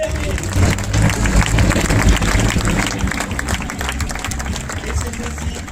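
Spectators at an airshow in Biscarrosse, France, applaud at length, calling for more; a broad, steady wash of clapping comes from a large crowd, heaviest early and then slowly easing.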